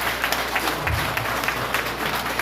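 An audience at a Christian leadership conference bursts into dense, steady applause, loud and close, with a few thumps and no talking over it.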